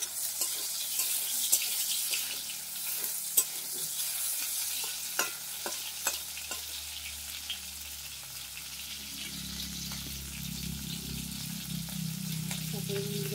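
Sliced dried red chilies with chopped onion and bay leaves frying in oil in a pan, a steady sizzle with occasional stirring scrapes, growing louder and fuller toward the end, no talking.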